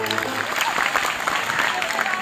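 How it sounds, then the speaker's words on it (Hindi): A crowd claps loudly and steadily at a children's magic show, with dense applause close by and a faint voice mixed in. "जोरदार तालियां"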